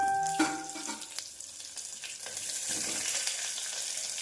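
Oil crackling and sizzling as chopped onions go into the pan with ginger for egg curry, with some clattering early on, then a steady frying hiss.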